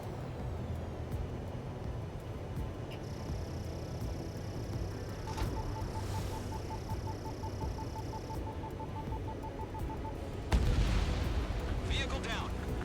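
Anti-aircraft guns fire in the Ace Combat 7 flight game, a sustained rumbling barrage with a rapid string of faint pops midway and a heavier burst near the end, all under a constant loud wash of battle noise.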